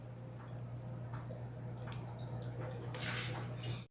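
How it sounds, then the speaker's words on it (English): Lemon squeezed by hand over fresh fruit slices gives soft, close squishes and drips, faint and irregular over a steady low hum, with no one speaking. "Go ahead and squeeze some lemon on these."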